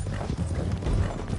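A horse's hooves clip-clop in quick, dense beats on the ground in Red Dead Redemption 2, loud and close throughout.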